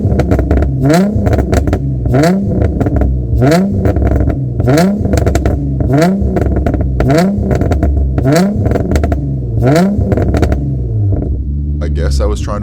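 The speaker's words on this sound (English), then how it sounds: "I forgot how deep this exhaust note is" An Infiniti G35 coupe with its VQ engine revs repeatedly in a steady rhythm of about a dozen sharp blips, each falling back to idle. The deep, loud exhaust note sits close by, with wind in the background.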